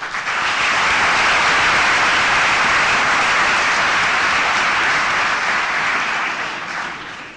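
Warm, sustained applause from students and guests filling two university amphitheatres at a graduation ceremony, a dense, loud roar of many hands clapping that holds steady and tapers off near the end.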